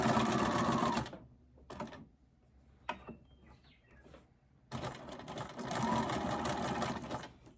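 Sewing machine running a straight stitch and then a zigzag stitch, two long steady bursts of loud, fast mechanical whirring close by, separated by a quiet pause with faint clicks and no talk.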